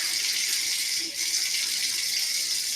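Tap water runs steadily into a medium saucepan, producing a close, even hiss and splash that stays at a constant level throughout.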